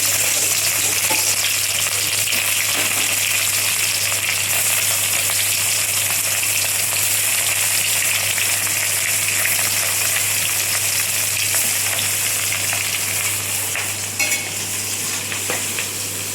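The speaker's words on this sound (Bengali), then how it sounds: "মাছটা আমি কড়াই দিই।" Katla fish, rubbed with salt and turmeric, fries in hot oil in a wok, a loud, steady, close sizzle with faint crackles, a low constant hum beneath, and no talking.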